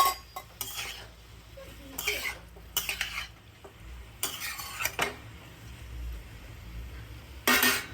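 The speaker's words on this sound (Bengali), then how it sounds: "এটা একটু ফ্রাই করে নেব" Mushrooms frying in a pan with a little turmeric, a soft background sizzle broken by repeated bursts of a spatula scraping and clanking against the pan, close and moderately loud.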